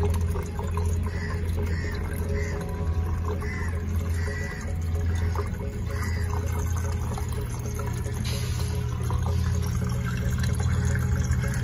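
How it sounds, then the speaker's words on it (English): Water trickling steadily through a homemade hydroponic system as it fills and begins circulating, a continuous soft flow with faint dripping running alone throughout. "You hear it trickling away."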